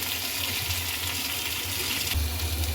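Rose water and kewra water are poured into a pot of biryani masala with potatoes, giving a steady wet pouring and splashing wash that swells slightly near the end, with no talking.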